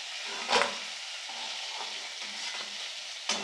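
Crab pieces fry in a wok for crab bhuna, giving a steady close sizzle and hiss with a couple of sharp scraping stir clicks, no voices.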